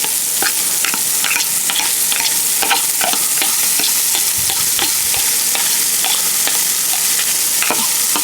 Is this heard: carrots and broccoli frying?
yes